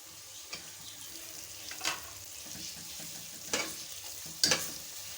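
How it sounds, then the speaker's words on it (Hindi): Spices and tomatoes frying and being stirred in a pot for Karachi-style chana dal gosht, a soft steady sizzle broken by a few sharper scraping stirs, quiet and close. "अब हम इसमें ये मसाले डाल देंगे और इनको भी भून लेंगे।"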